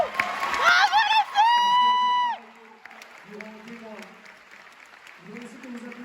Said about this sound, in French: comme disait Manouche, tous les artistes ici, vous pouvez les applaudir encore, toutes les troupes.